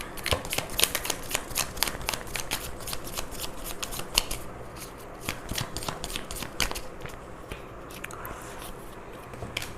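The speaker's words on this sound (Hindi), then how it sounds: "थोड़े और कार्ड्स निकाल लेते हैं, थोड़े से छोटे डेक से" A smaller tarot deck is shuffled close up in rapid, crisp riffles and flicks, followed by softer card slides and taps as cards are drawn, with no voices.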